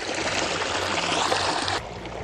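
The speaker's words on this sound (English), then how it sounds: "there's a close-up of the water coming right out of the ground" Spring water flowing out of the ground into a spring-fed farm pond, a steady close rushing trickle and gurgle that continues without pause, with no talking.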